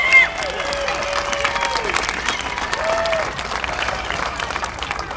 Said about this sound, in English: Give yourselves a big hand of applause and come back again next time.